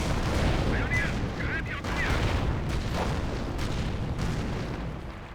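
Rocket artillery barrage in Company of Heroes striking a 25-pounder gun position: a dense, continuous roar of overlapping blasts and crackling impacts, loud and sustained for several seconds.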